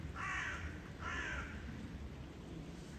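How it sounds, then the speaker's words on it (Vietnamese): Crows call from a tree near a balcony vegetable garden: two harsh caws about a second apart, distant and fairly faint over a low steady background hum. "đó là tiếng của mấy con quạ đó các bạn"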